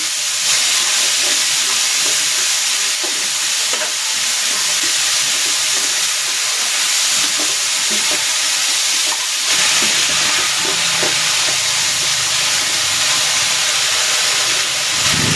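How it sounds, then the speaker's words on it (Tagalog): Banana blossom sautéing in a pan, a steady loud sizzle and hiss of frying that runs unbroken for the whole stretch with faint stirring clinks, no talking. "At igigisa ko na dito itong puso ng saging."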